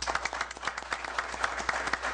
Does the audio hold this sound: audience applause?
yes